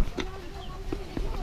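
Small backyard chickens cluck in a few short, scattered calls, fairly close and moderately loud, over a low background hum.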